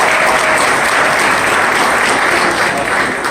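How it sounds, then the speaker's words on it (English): A crowd at a civic event in Little Rock, where the mayor declares Love Little Rock Day, breaks into loud, full applause, a thick continuous roar of clapping that holds evenly for several seconds. "Let's give them a big round of applause."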